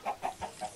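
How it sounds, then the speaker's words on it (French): Chickens in the Minecraft video game cluck close by, four short evenly spaced clucks in quick succession, no talking. "Il y a des canards et des œufs, là"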